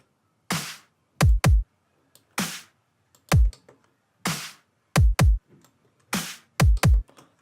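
A cloned snare drum pitched up or down by one or two semitones plays in a programmed pattern, sharp cracks falling in groups of one then a quick pair, repeating in a steady loop, dry and close with no voices.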